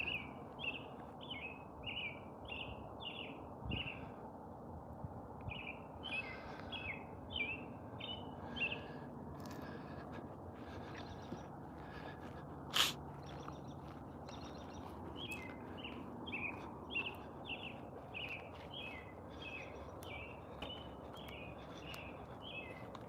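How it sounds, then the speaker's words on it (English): A robin sings repeated short phrases in the background outdoors at a post-fire site, a steady series of clear chirping bursts over a low ambient rumble, with no one talking. "A robin singing in the background."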